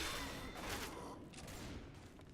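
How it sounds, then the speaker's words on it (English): Rapid gunfire from a survivor shooting a zombie in Left 4 Dead 2, a quick burst of crackling shots blending into a continuous rattle, fairly faint and short. "Shoot that zombie in the back."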